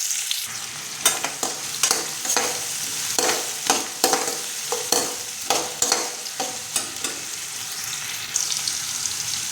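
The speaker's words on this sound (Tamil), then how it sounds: "கடுகு பொரிஞ்சதும் நறுக்கின வெங்காயம் ஒன்று," Chopped onion frying in peanut oil after mustard seeds and urad dal have popped, for a beetroot poriyal; a close, steady sizzle runs throughout, broken by repeated sharp scraping strokes of stirring, with no talking.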